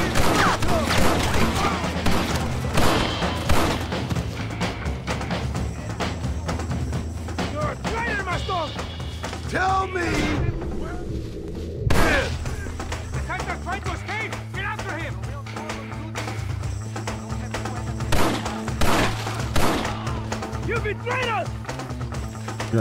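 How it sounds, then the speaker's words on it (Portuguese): Gunfire in the Red Dead Redemption video game, scattered sharp shots and crashes amid busy game sounds, with someone talking over much of it. "Já dei um tiro no pé dele para ele não conseguir correr muito."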